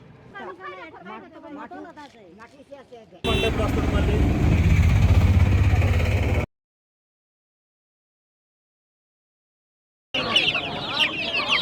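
Roosters and hens cluck and crow amid a busy, noisy outdoor market scene with voices in Araku, broken by a sudden stretch of silence before the clamor resumes.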